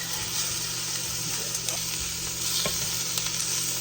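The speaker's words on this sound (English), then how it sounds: "got my second batch, getting it browned" Maple glazed chicken browning in a hot pan gives a steady, dense sizzle throughout, close and fairly loud, with a few faint clicks and light stirring noises on top.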